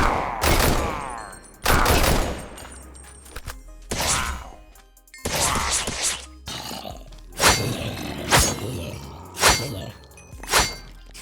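Gun mod weapons from a Minecraft 1.20.1 video game fire in a series of sharp, loud bursts, several rapid shots followed by spaced single blasts, with no talk over them.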